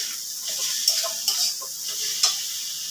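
Ginger garlic paste hits a hot pan with an even sizzle, while a utensil scrapes and clinks against the metal in a few distinct knocks.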